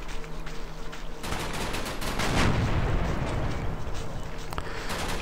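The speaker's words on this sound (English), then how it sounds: "The tanks are still firing at that vehicle." Tanks firing at a vehicle in the wartime strategy game Combat Mission, Market Garden campaign, a dense loud stretch of rapid gunfire and booming shots, continuous and rumbling with sharp cracks throughout.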